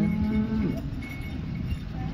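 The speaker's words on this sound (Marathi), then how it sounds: "8 गाय आणलेल्या त्या बघा" A cow gives one short low moo at the start of a cattle market scene in Modnimb, then a steady murmur of market noise with faint distant calls fills the rest.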